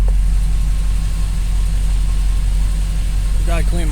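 A 1987 GMC Sierra Classic Suburban engine idles with a steady, loud low rumble and an even hum throughout, and a brief voice is heard near the end.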